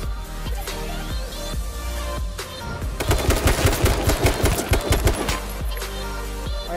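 Rapid automatic gunfire from a first-person shooter battle royale match, a dense sustained burst of shots over an ongoing game soundscape with earlier scattered single reports.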